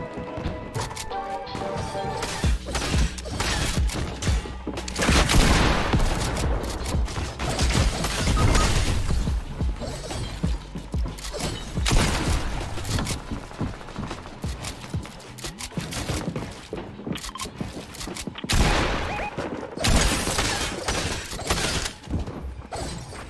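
Shotgun gunfire rings out in a Fortnite match. Loud blasts come in dense, irregular bursts, mixed with shattering and crashing impacts throughout a busy, chaotic fight.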